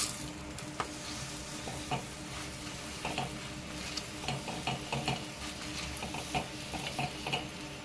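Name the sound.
frying carrot and potato paratha in a pan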